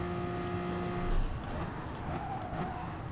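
A McLaren GR3 race car roars around Le Mans in GT Sport, the engine droning steadily with a brief surge and tire noise, other cars audible in the mix.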